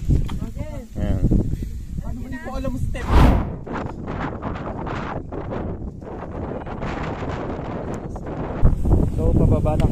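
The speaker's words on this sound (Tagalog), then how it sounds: "Ang lakas ng hangin at ang ilaw." Strong wind buffets the microphone in loud, rough gusts on a steep, ash- and sand-covered mountain descent of Mt. Mariglem in Cabangan, Zambales, with voices talking at the start and end.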